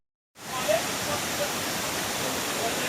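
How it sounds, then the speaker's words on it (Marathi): Vajrai waterfall, the first falls along the route, roars as a steady broadband rush of falling water, loud and continuous after a brief silent start. "आणि वजराईच्या मार्गावर आम्हाला हा पहिला धबधबा असा दिसतो इकडे."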